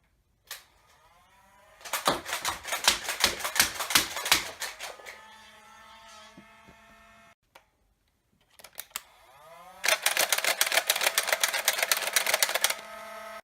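A Nerf N-Strike Elite Stockade blaster is primed and fired in two close bursts, each a rapid clattering run of sharp mechanical clicks and whirring motor noise, separated by a brief quiet gap.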